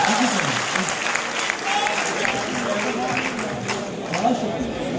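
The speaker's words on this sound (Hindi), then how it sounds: "अलीना के लिए बहुत सारी तालियां हो गई।" An audience at a live poetry performance in a Lahore hall applauds steadily, a dense, moderately loud wash of clapping with some crowd murmur and a voice speaking over it.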